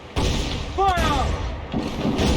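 Ship cannons fire in Assassin's Creed 4 Black Flag with a couple of sharp booming blasts over battle noise, heard close and loud alongside shouting voices.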